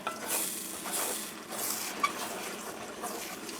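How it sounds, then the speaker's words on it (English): Scrambled eggs being stirred in a cast iron skillet: a soft, steady sizzle with scraping strokes repeating roughly every half second, plus one brief clink near the middle. "Give it a good stir."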